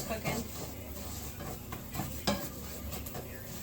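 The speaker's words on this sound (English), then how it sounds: "Like the rice is cooking." Rice browning in a pan for a Sunday dinner: a soft steady sizzle with scraping stirring strokes and occasional utensil clinks against the pan, close and moderately quiet.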